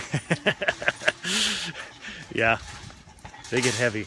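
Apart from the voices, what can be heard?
65-pound dog panting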